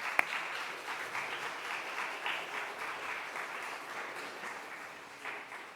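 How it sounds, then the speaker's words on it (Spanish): Audience applause at a book presentation, a steady wash of many hands clapping that fills the room evenly for several seconds without a break. "Un aplauso, por favor."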